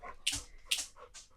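Indoors, a dog gives a few high, breathy whimpers and yips in quick succession, close and fairly soft, with no speech.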